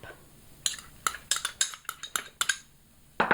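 A knife chops one green onion on a board: about a dozen crisp, close taps in a quick uneven rhythm, each a short sharp knock, with a brief pause before a final pair of cuts.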